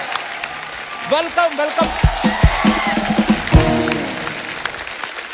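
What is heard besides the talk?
studio audience applause for Tamannaah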